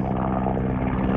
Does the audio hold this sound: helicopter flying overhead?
yes